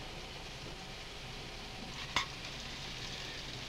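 A steady, quiet sizzle of onions frying in a pan, with a single brief clink of metal partway through.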